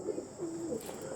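A male pigeon gives a short, soft coo, a faint rising and falling throaty call over quiet background hiss.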